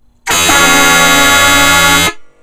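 A loud, sustained vehicle horn blast holds steady for nearly two seconds, then cuts off abruptly with a brief echo trailing after.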